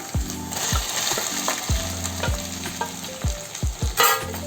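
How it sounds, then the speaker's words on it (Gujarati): Potatoes go into a sizzling pan for sabudana khichdi, a close, busy frying hiss punctuated by repeated clanks and knocks of a utensil against the pan. "હવે આપણે બટેટા ઉમેરી દઈશું"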